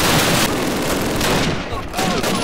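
Rapid gunfire from the game Disposable Heroes rattles loud and near, in dense bursts that run almost without pause through the clip, with a short dip before the shooting picks up again.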